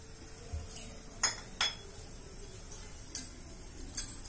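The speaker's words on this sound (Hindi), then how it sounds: "अभी मैं गैस ऑन करके कढ़ाई बिठा दिया है।" A kadhai is set down on a gas stove, giving several sharp metallic clinks and clatters spaced irregularly over a quiet kitchen background.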